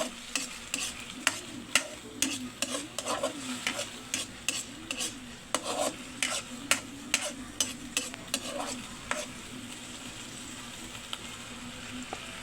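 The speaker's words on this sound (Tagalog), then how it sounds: "Gigisa natin idol yung sardinas idol." Sardines being sautéed in a pan, with repeated stirring scrapes and clinks of a utensil against the pan over a steady low sizzle, busy early then settling into a quieter sizzle.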